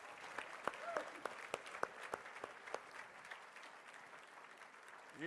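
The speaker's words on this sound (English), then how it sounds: "Let's have a round of applause." Audience applause at an awards ceremony honoring American heroes, with scattered sharp claps over a steady wash of crowd noise that eases slightly toward the end.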